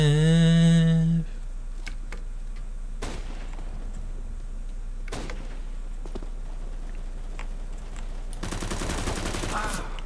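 AK rifle gunfire in Counter-Strike: Global Offensive, with a tonal game beep at the start followed by a few sharp, separated shots and then a rapid burst near the end.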